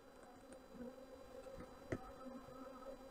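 Honey bees buzz inside a beehive, a soft steady drone of many wings with a brief louder bump partway through.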